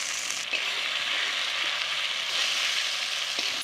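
Continuous bright sizzling of spice paste frying in a pan with chilli paste, turmeric, cumin and coriander powder for a tel koi fish curry, steady and close with no talk.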